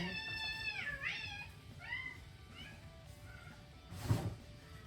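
A cat meows several times close by, drawn-out complaining cries of varying pitch, followed by a short louder bump or rustle.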